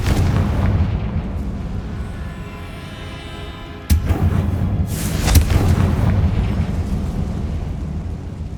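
Confringo blast spell in Hogwarts Legacy: a deep rumbling boom that swells, then a sharp burst near four seconds followed by a second loud crackling explosion and a rolling low rumble afterward.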